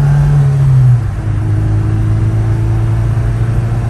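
An Acura Integra with a B18C1 engine runs loud and close, its steady drone dropping in pitch after an early rev and then holding an even idle.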